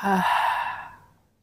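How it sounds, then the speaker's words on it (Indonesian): A slow, audible exhale through an open mouth during seated yoga breathing, one breathy sigh starting with a brief voiced onset, then fading smoothly into silence. "buang nafas, hembuskan, bukan hembaskan, hembuskan dari mulut yang terbuka"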